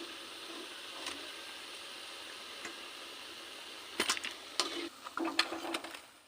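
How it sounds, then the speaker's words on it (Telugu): Bajji fritters sizzle in hot oil, a steady frying hiss underneath, then a burst of sharper crackles and splatters as more battered pieces are dropped in near the end. "ఇక బజ్జీలు వేస్తున్నా. ఇట్లా వేసుకోవాలి."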